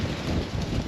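Wind gusting against an action camera mic, a dense low rumble and buffeting that fills the short stretch without pause.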